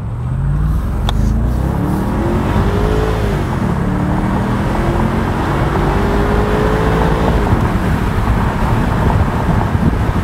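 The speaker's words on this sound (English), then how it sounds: "It still sounds like a big old V8." BMW 650i Convertible with a V8 engine accelerating on a Chicago road, a steady loud engine roar with rising gear-change tones and heavy wind noise throughout, no talking.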